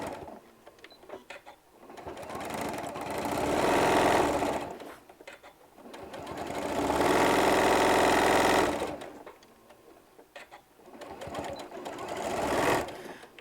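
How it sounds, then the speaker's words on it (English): A sewing machine stitches the side seam of a fabric storage pod, running in three bursts of a few seconds each with quiet pauses in between, the whirring fairly close. "we're going to sew the side completely down"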